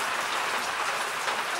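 Heavy rain pours loudly and evenly, a dense hiss of countless drops striking surfaces, filling the whole moment without pause.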